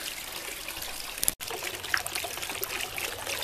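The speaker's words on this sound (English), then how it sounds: "This is the 3rd and final fountain I have in my house." Water trickles steadily from a concrete garden fountain at the front of a house, a soft continuous splashing with a brief break partway through and no talking.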